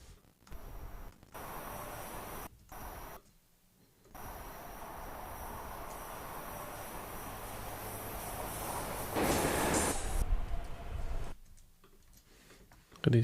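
A subway train in Stockholm rumbles past with a continuous roar and rattling, swelling louder toward the end, broken by a few brief quiet gaps.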